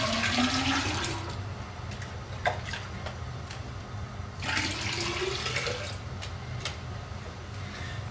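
Clean water swished around inside a bucket, then poured out onto a driveway, sloshing and splashing steadily for several seconds with a second surge of pouring partway through.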